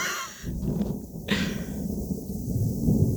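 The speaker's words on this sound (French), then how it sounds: "Oh, ce tonnerre." Thunder rumbles low and continuously through a nearby thunderstorm, with a rough, broad roar that swells and holds throughout.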